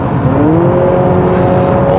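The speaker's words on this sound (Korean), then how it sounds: "엔진 소리는 실내로 좀 크게 들어오긴 하는데" Loud, steady engine hum from inside a moving 2024 Honda CR-V Hybrid 4WD Touring, the pitch climbing smoothly as the engine revs up.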